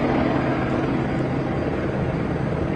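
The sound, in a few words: news helicopter banking overhead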